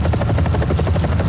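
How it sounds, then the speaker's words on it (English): A helicopter flies into battle in a combat video game, its rotor giving a loud, rapid, steady thudding chop throughout with no other sounds. "flying the helicopter into battle"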